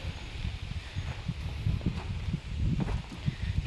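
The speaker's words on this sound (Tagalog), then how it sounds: "Sobrang lakas ng hangin" Strong wind gusts over a one-hectare farm field, buffeting the microphone in uneven rumbling bursts with rustling underneath, steady throughout.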